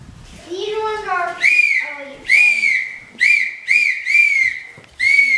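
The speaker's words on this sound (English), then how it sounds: "It's been 20 minutes non-stop whistle blowing." A child blows a toy whistle at home on Christmas Day, sounding a series of bright shrill toots of varying length close by, after a voice speaks at the start.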